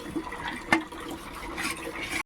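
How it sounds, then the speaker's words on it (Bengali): Dishes washed under running water in a home kitchen: steady splashing and a running tap, with a sharp clink of crockery near the start. "বাসন ধুচ্ছে"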